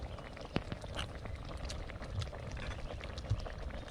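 A pot of corn and vegetables at a rolling boil, bubbling and churning steadily with occasional louder pops of bursting bubbles, close and moderately quiet with no talking.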